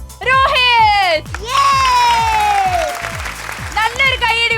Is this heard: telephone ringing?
no